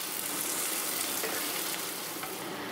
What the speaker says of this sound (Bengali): আমি পেঁয়াজগুলো একদম লাল করে ভেজে তুলব